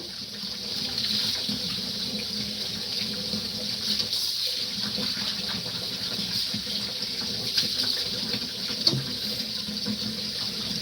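Water from a sink tap turned up to high pressure runs in a steady, loud hiss and gushes without a break, with occasional faint clinks and no talk.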